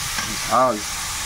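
Two bay leaves fry in hot oil in a pan for egg curry, a steady close sizzle with a brief voiced sound in the middle.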